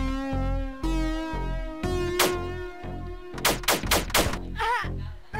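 Video game gunfire in Paradox Soul, several sharp shots, some in quick bursts, over layered game music and effects.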